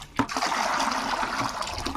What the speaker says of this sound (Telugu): వాటర్ పోసి పెట్టుకుంటున్నాను